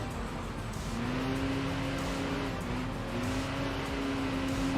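Race cars in Enthusia Professional Racing, including a BMW with a tuned inline four-cylinder, a steady engine drone with rising and falling pitch as the car accelerates, continuous and fairly loud.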